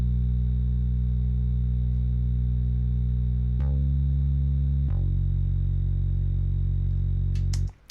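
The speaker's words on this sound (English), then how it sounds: "actually quite close to a pretty decent live soul bass sound, like a Fender P bass kind of sound" Ableton Simple synth bass line voiced like a Fender P bass, sustained low notes stepping down in pitch a few times with a steady faint hum above, ending abruptly.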